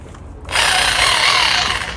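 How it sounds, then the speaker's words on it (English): An SDS Plus hammer drill with an auger bit spins up suddenly and bores steadily through wood with a loud, sustained whirring grind. "using that auger bit, it's going to do a really nice job of creating a really nice hole"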